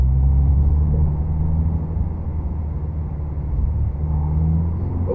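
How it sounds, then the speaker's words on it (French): A car with no shock absorbers rolls along a road, its low rumbling drone steady and continuous throughout, with dull thumps and rattles from the bare suspension under the engine noise. "Qu'est-ce que donne une voiture sans amortisseur?"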